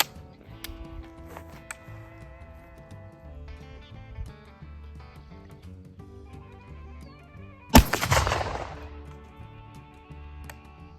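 An 1868 trapdoor rifle in .50-70, loaded with 70 grains of 3F black powder and a 450-grain bullet, fires one loud booming report after quiet mechanical clicks from handling the action.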